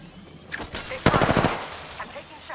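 Video game gunfire crackles in quick bursts, a short volley followed by a denser rapid automatic string, loud and close, with faint background sound between shots.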